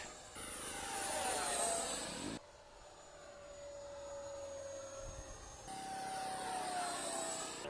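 HobbyKing Viper 64mm 6S electric ducted fan model jet on its maiden flight, a loud whining ducted-fan roar that sweeps in pitch as it passes, quieter in the middle, then surging again.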